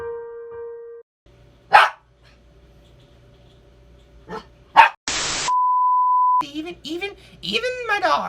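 A dog gives a few sharp barks between beeps and bleeps, with talk and a steady tone, the barks loud and close in a busy edited mix.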